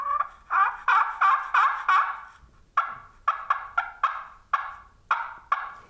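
A hunter imitates a turkey with a call, making a tree yelp: a run of quick, sharp, nasal notes in an even rhythm, then a short pause and a second, more spaced series, loud and close with no talk.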